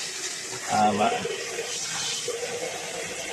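Water is poured over hands as they are rinsed during plant potting, a brief splashing burst that fades into a soft watery hiss, faint under someone speaking Tamil.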